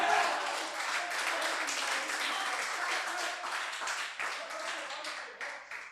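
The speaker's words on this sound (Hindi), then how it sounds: "इतनी प्यारी तालियां सुन के" Warm applause from a crowd at a Hindi poetry performance, dense clapping that stays full for several seconds before gradually tapering into scattered claps.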